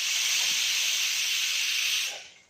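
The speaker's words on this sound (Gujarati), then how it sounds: "આપણે હવે ગેસની ફ્લેમ ચાલુ કરીશું" A gas stove flame is switched on, giving a steady close hiss of gas that holds evenly for about two seconds and then cuts off.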